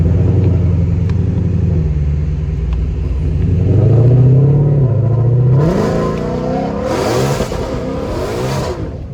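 A 1000+ hp GT500 idles with a deep rumble, then accelerates in a short hard pull. The engine climbs in rising, roaring revs, loud and heard from inside the car, with no talk.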